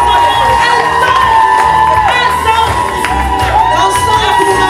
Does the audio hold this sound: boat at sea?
no